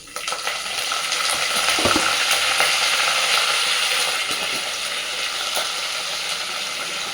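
Vadagam and curry leaves sizzle in hot oil for fish curry, a loud, steady crackling hiss with brief pops and spatters that eases slightly toward the end.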